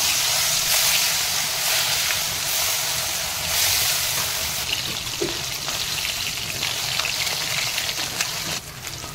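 Bogo fish fry in hot oil in a kadai (wok), giving a loud, continuous sizzling hiss that stays close and steady.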